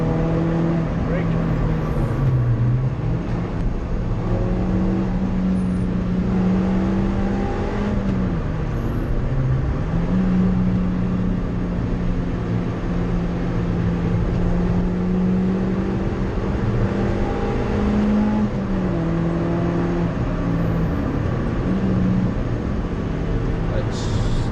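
A car lapping the Nurburgring race track, its engine droning loudly from inside the cabin with pitch rising and dipping through gear changes and corners, while occupants talk over the steady roar.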